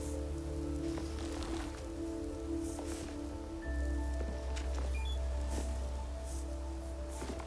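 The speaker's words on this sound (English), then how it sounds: "Is that rain?" Steady rain patters across a surface with a constant hiss in the video game Terra Nil, joined midway by a low droning hum and faint tonal beeps.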